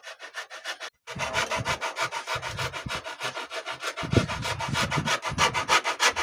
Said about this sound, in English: I use the other side of the rasp just to get my semicircle or my arc